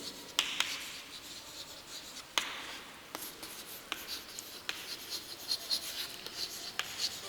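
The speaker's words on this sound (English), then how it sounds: "now suppose I am writing a letter to the headmistress" A pen scratches across paper while someone writes a letter, with soft, continuous scribbling strokes broken by small taps and pauses, close and quiet with no talking.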